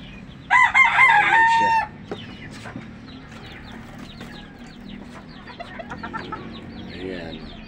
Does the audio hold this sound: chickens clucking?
yes